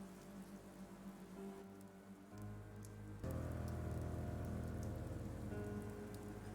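Steady rain falls in a Devil Summoner: Raidou Kuzunoha vs The Soulless Army scene, a constant hiss of drops that swells louder partway through alongside low tonal game music.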